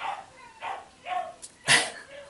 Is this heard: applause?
no